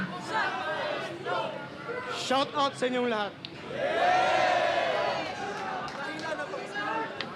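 Crowd noise at a FlipTop rap battle: a lively cheering, chattering audience swelling into a sustained roar, with someone talking over it.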